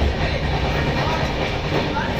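Darjeeling Mail sleeper train running fast between Sealdah and NJP: a steady, loud rumble of wheels and carriage noise fills the whole clip, with faint clickety-clack and some voices in the background.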